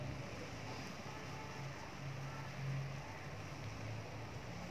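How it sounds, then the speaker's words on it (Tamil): Tea boils in a pot with a steady, faint, noisy bubbling rumble that swells slightly midway, with no speech. "டீ நல்லா கொதிச்சிட்ருக்கு."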